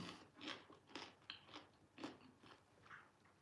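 Pickles are crunched while eating, a series of close, faint wet bites and chewing crunches in an irregular rhythm, with no talking.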